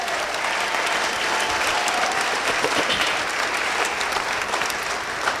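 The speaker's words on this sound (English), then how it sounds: "if we could all have a big round of applause for all of the Newark City" Sustained applause fills a large hall as an audience at a city State of the City address claps for municipal employees, dense and steady throughout without letup.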